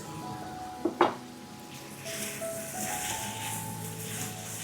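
Spicy garlic chicken is stir-fried with sauce and spring onion, giving a soft, fairly quiet sizzle, a brief clatter of the pan or utensil near the start, and a steadier hiss as the wok is tossed.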